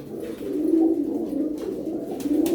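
Tumbler pigeons coo in a close, steady low warble, soft rolling calls repeating throughout with a faint bird chirp at the end.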